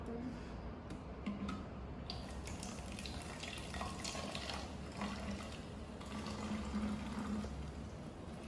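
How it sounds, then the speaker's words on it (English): Soda water is poured into a bottle for a tonic and soda water experiment, making a steady, close, continuous pour with light fizzing that runs the whole time. "And then you pour the soda water."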